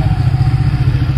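A motorcycle engine rumbles steadily and fairly loud nearby in a seaside town by the harbour, a continuous low throb with no break.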